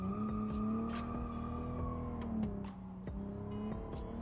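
A small Volvo car's engine in a video game accelerating steadily, a harmonic drone rising slightly in pitch with faint tire noise and clicks, continuous and fairly close.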